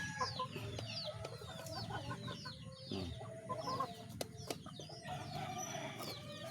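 Several chickens cluck and squawk nearby in overlapping bursts, with a rooster-like call mixed in over a low background hum.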